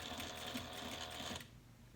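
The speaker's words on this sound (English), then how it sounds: "we're going to sew across at a diagonal" A sewing machine runs a short burst of stitching diagonally across a slip pocket, a steady close whirring hum that stops abruptly near the end.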